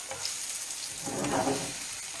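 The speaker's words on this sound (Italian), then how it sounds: "facciamo soffriggere anche qua il tonno" Tuna and eggplant sizzle gently in a pan, a soft, steady crackle of frying that swells briefly in the middle as food is stirred, close up with no talking.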